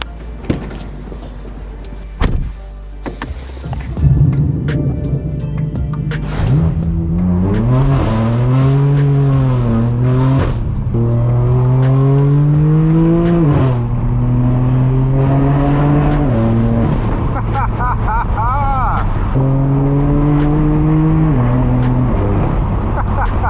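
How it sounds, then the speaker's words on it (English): A straight-piped BMW M4 F82 drives and revs hard, its loud raw exhaust climbing through repeated gear pulls with sharp rises and drops in pitch, close and dominant. "You guys join me here with my straight pipe BMW M4, and today we're gonna be going on another POV drive."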